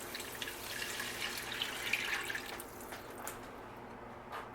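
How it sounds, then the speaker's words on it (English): Two cups of water poured into a pan for a pumpkin Alfredo sauce, a steady close splashing trickle that runs for a few seconds and then thins out near the end. "we're gonna take 2 cups of water"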